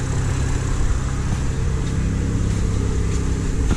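A BMW F30 340i with a DAW Ultra Flow hybrid turbo idles in a steady, even, broadband rumble with no change in revs, heard up close and loud with no talking.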